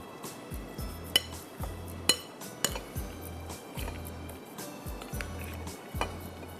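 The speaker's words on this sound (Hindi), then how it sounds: "इसको भी आप अच्छी तरह से मिक्स कर लीजिए।" A utensil stirs tandoori masala into butter chicken biryani ingredients in a pot, with a steady rhythm of squishy mixing strokes punctuated by sharp metallic clinks against the pan.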